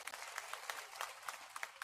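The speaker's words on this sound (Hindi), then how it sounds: "और ये आप अपने जोरदार ताली बजाओ" Faint, distant applause from an election rally crowd in Maharashtra, scattered claps pattering steadily throughout.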